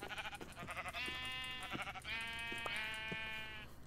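Sheep in the Minecraft video game bleat several times in quick succession, with drawn-out, wavering cries that come clearly and alone.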